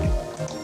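Wet, mushy chewing sound effect of a man eating, played without a low-pass filter, so it comes across brighter and less muffled: a short squishy, dripping burst, close and moderately loud, with no voices.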